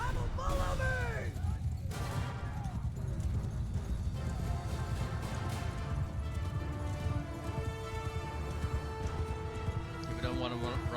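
Cavalry horses' hooves clatter in the Mount & Blade Bannerlord video game, a dense continuous clip-clop of many mounts under loud battle noise, with someone talking over them throughout.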